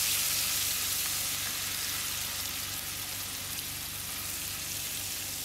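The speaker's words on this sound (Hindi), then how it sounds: "इसमें हम डाल देंगे लहसुन पेस्ट वाला, और इसको भी हल्का सा भून लेंगे" Garlic paste sautés in a pan, giving a steady, dense sizzle that runs evenly throughout with no voices.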